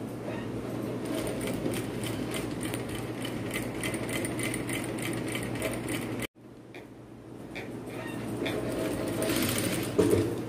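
A sewing machine stitches pattupavada fabric in a steady close whirring run, briefly pausing midway, then resuming and speeding up slightly toward the end.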